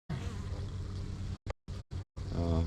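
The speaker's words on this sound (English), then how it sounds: "There's a little bee right here that just doesn't have any energy left." A small, exhausted bee buzzes close by in rough, steady drones broken by several short silences before the buzzing resumes.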